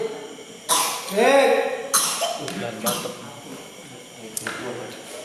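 A few sharp coughs ring out close by during a Quran exegesis study session, with a throat-clearing rasp between them and a quiet room behind.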